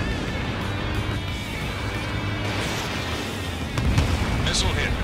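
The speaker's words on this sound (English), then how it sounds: "Missile hit." Missile striking an enemy ace aircraft in the Ace Combat 7 flight game, flown in an F/A-18 Block III: a continuous jet roar with a sharper burst of impact noise near the end.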